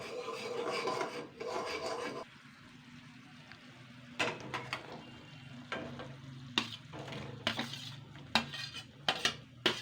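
Boiled pasta with chili and black pepper stirred in a pan, giving dense scraping and rasping strokes at first, then scattered sharp clinks and scrapes of a utensil against the metal pan, close and fairly quiet, with no talking.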